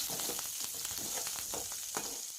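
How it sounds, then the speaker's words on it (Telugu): Green chilies, onions, fenugreek leaves and curry leaves frying in oil in a pan, giving a steady, soft hiss of sizzling with faint crackles and light stirring scrapes. "ఒక ప్యాన్లో ఆయిల్ వేసి దాని తర్వాత పచ్చిమిర్చి, ఆనియన్స్, మెంతం కూర, కరివేపాకు వేసి ఫ్రై చేసుకోవాలి."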